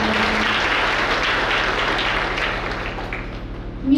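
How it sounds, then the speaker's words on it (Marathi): A crowd claps steadily at a kirtan devotional gathering in Vilholi village, continuous applause that tapers slightly toward the end before a brief louder burst. "या बाळ गोपाळांसाठी एकदा मोठ्याने टाळ्या."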